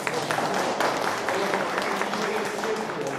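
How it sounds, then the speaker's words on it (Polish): Applause from an audience in a hall, a dense, steady patter of many hands clapping that is moderately loud and runs for the whole stretch without pause. "Proszę, duże brawa."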